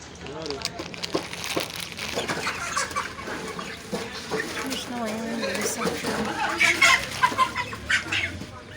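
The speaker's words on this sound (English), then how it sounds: "This is the section where they are selling chicken." Chickens cluck steadily in the poultry section of a local market in Nigeria, close and fairly loud, with people talking throughout and background market bustle.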